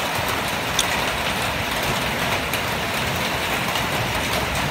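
Heavy nighttime rain driven by wind, a loud, unbroken broadband roar of downpour with no let-up and no voices.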